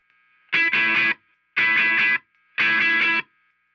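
Electric guitar played through a Boss DS-2 distortion pedal: three loud, saturated strummed bursts, each about half a second long, separated by brief gaps with a low amp hum underneath, no talking.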